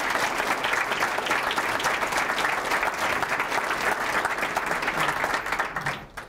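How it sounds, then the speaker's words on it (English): Crowd applause for JROTC instructors at a superintendent's breakfast, sustained even clapping from many hands that tapers off at the end. "So a special round of applause for our JROTC instructors."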